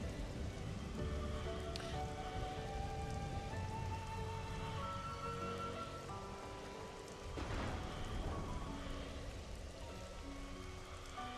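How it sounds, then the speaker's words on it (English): Steady rain patters on a surface as a constant soft hiss, with a faint low rumble partway through and quiet tonal sounds layered underneath, heard faint and even throughout. "ASMR stream with the rain."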